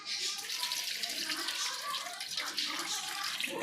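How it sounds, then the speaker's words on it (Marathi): Grated potatoes being washed in water, a close continuous rush and splash of running and sloshing water with no pauses. "किसलेल्या आलूला छान पाणी टाकून नाही का धुवून टाकायचं"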